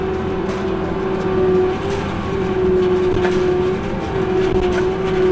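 A disc mulcher attachment on a variable-speed hydraulic pump spins toward full RPM, a steady loud whirring drone with a sustained mid-pitched tone under heavy engine rumble, holding level throughout.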